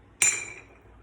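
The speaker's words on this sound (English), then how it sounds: "Did you hear that clink sound?" A small rock drops into a glass of fresh water and strikes the bottom with a single bright clink, ringing briefly and fading out over about a second, close and clear with no talk.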